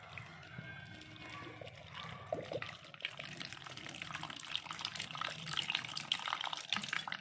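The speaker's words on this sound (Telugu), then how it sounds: "నెక్స్ట్ 250 ml వాటర్ అయితే పోయాలి" Water poured into oats powder, a continuous soft splashing pour that stays fairly quiet throughout, with faint background noise and no clear talk.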